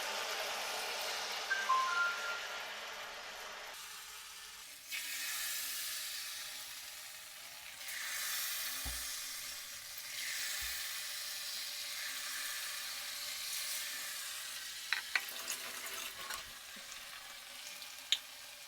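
Wheat-flour banana fritters (pazhampori) sizzle steadily in hot oil over a medium flame, a continuous broadband frying hiss with occasional clinks and stirring knocks, close and without speech.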